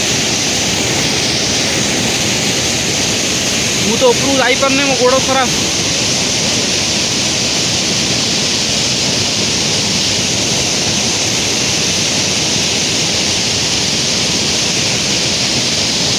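A waterfall swollen with rainwater roars in a steady, loud, unbroken rush close by, with a person briefly speaking over it near the start.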